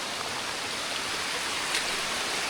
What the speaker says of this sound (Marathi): तो हॉरर आणि त्यात पाऊस आणि हा सळसळणारा धबधबा